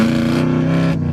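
A 1979 AMX engine rumbling through its muffler exhaust at an exhaust shop: a steady, loud, close idle drone with a strong low hum and dense harmonics, no voices.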